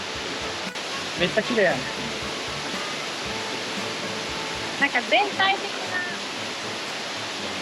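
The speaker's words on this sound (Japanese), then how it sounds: "今雨竜の滝に到着しました" Uryu Falls in Nakatsu Gorge, Kochi, Japan, a steady broadband rush of falling water filling the scene, with a few brief spoken remarks over it.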